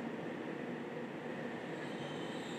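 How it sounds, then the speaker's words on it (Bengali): New Chinese-built Kolkata metro train arriving at Jessore Road station, a steady, fairly soft rolling roar with a faint high whine and no talk. "সুন্দর নতুন মেট্রো আসছে।"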